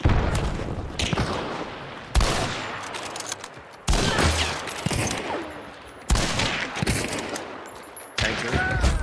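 Gunfire in the video game Hunt: Showdown, likely from a Springfield M1892 Krag rifle: four loud, sharp shots spaced about two seconds apart, each followed by a long echoing tail that decays before the next.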